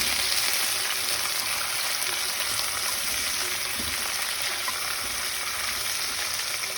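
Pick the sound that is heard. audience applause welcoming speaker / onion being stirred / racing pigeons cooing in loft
onion being stirred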